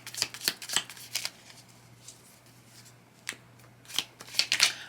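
Tea leaf oracle cards are shuffled and one is pulled, giving several crisp riffles and slaps in uneven bursts, close and clear, with short pauses between them.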